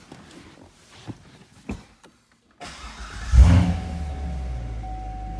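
A 2014 Chevrolet Corvette Z51 with NPP exhaust starts after a few soft interior clicks, firing with a sharp loud bark that settles into a steady, rumbly idle close by.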